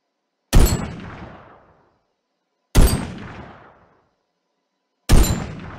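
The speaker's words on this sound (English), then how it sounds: "And now for the heavy rifle." A heavy rifle from a Minecraft gun mod fires three loud, booming shots spaced about two seconds apart, each with a sharp attack and a decaying tail, with silence in between.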